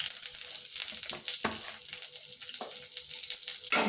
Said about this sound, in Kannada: ಸ್ವಲ್ಪ ಇದಕ್ಕೆ ಸಾಸಿವೆನ ಹಾಕ್ತಾಯಿದ್ದೀನಿ. ಹಾಗೆ ಸ್ವಲ್ಪ ಜೀರಿಗೆ, ಸ್ವಲ್ಪ ಕರಿಬೇವು ಸೊಪ್ಪು, ಮತ್ತು ಸ್ವಲ್ಪ ಇಂಗನ್ನು ಹಾಕ್ತಾಯಿದ್ದೀನಿ.